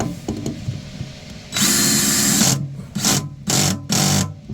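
A power drill drives screws to remount a sink in a soft particle board countertop. One long whirring burst is followed by three short pulses, close and loud.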